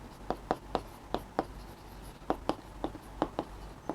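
Chalk or marker strokes on a classroom board, heard as a series of sharp, separate taps and scrapes at an uneven pace, close and fairly quiet, with no voices.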